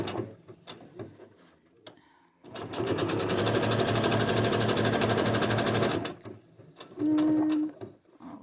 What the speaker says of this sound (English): so I'm at the sewing machine here.